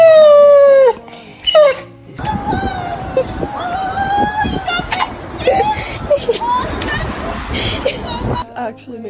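A rescued dog howls and whines in long wavering cries, with high yips and whimpers mixed in, while people talk loudly around it; the howls rise and fall through the clip against busy background noise.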